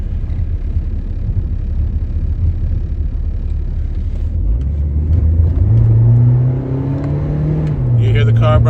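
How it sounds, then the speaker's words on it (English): A car engine rumbles and revs, rising in pitch as the vehicle speeds by close and loud. "You hear the car, bro?"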